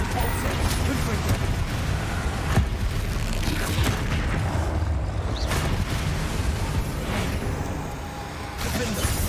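Spell blasts and magical bursts in the Hogwarts Legacy game, a dense steady roar of booming impacts and crackling effects throughout, with a voice speaking over the din.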